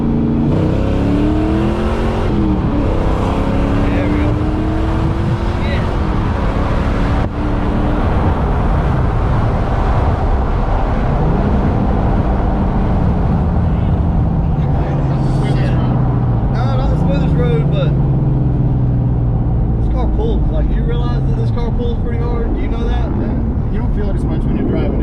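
Turbocharged Foxbody Mustang engine running loud and steady while driving, with revs rising and falling under continuous talk from people in the car.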